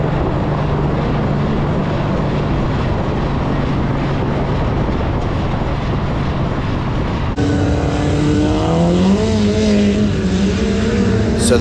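A Honda K20 engine in a Badger Midget race car drones loudly and continuously as the throttle is worked, then rises and falls in pitch in the later part.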